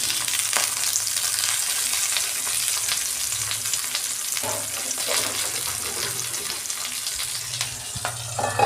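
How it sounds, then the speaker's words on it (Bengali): Flat beans fry in oil in a nonstick pan over a low gas flame, a steady close sizzle with soft stirring scrapes running throughout, no voices. "আমি তেল দিচ্ছি, সিমগুলো ভাজবো।"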